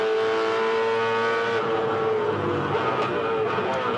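A V8 Supercar in a 2007 Queensland 300 championship race climbs back to full throttle out of turn 2, a loud, steady engine drone with rising harmonic pitch that stays continuous and close for the whole stretch.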